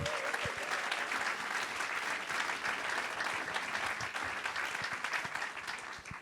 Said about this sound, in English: let's give them a big round of applause just for showing up